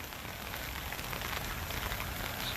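Rain falling steadily on a mulched chicken coop yard, a dense continuous patter and hiss at moderate level with no talking.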